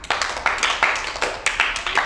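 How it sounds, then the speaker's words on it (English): Schoolchildren in a classroom clap for a classmate, a quick run of sharp, uneven handclaps with several hands coming in and out of sync. "Give her a big clap."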